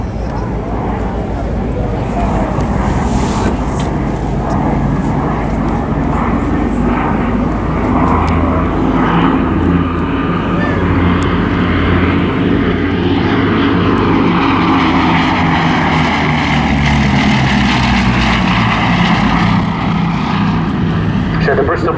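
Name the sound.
Bristol Blenheim aircraft flying, two Bristol Mercury radial piston engines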